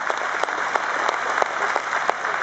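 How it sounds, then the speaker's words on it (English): Audience applause at a dressage masterclass arena, a steady wash of many hands clapping at moderate distance, with a few sharper individual claps standing out across the short stretch. "I think we can give that a round of applause there for that"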